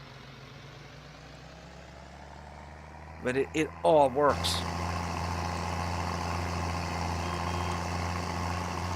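A farm tractor's engine idles in Farming Simulator 22 as a steady low drone that shifts to a slightly louder, rougher tone partway through, with someone talking briefly over it.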